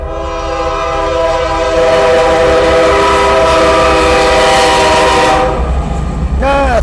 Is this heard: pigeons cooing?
no